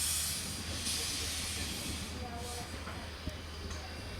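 A steam train turning around on a triangle track, giving off a continuous faint hiss of steam over a low rumble, with a few light metallic clicks and squeaks from the rails.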